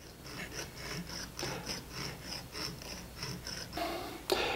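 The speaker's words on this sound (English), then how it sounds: "moving it back and forth, polish the inside" Rhythmic back-and-forth rubbing inside the rusted thread tensioner of an antique sewing machine, a soft scraping polish repeated about a dozen times at close range, with no talk, ending in a brief sharper scrape.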